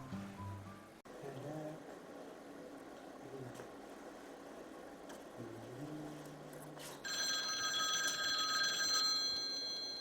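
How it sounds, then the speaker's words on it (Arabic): After several seconds of quiet room noise, a telephone starts ringing with a bright, steady electronic tone that continues to the end. "صوني التليفون هذا كل دور."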